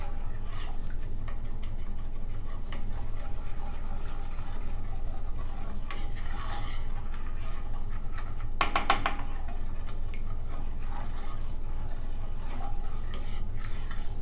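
A utensil stirs chocolate keto fat bomb mixture in a pan with small continuous circles, giving soft scraping and faint clinks, plus one brief sharper rattle midway, with no talking.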